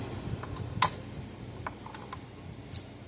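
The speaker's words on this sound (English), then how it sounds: "This thing ratchets it down and cuts the tail off at the same time for you whenever you push the lever down." A cable tie tool ratchets and snips a tie tail during repair of an old Gallagher BEV2 fence energizer, giving a few sharp clicks and a crisp snap near the start, close and quiet, with no talk.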